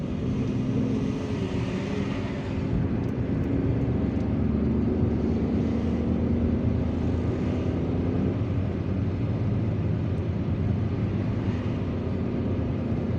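A car drives down Gué Brothers street in Bir Mourad Raïs, Algiers, with a steady low engine and road rumble heard from inside the cabin, broad and even.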